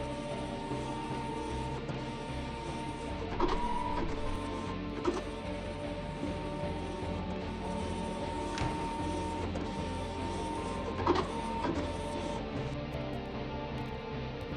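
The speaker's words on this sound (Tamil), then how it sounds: "இவ்வளோ நேரம் ஒர்க் ஆகுது பிரிண்டர்," A printer whirs and chatters steadily up close, its mechanism grinding through a page with a few louder clunks along the way and no talking over it.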